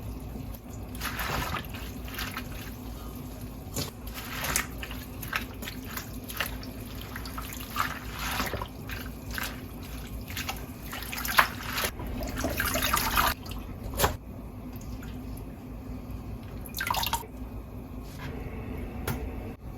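Collard greens are rinsed under running water in a sink, with irregular splashes, drips and trickles coming in bursts over a steady background hiss, fairly close and with no talk.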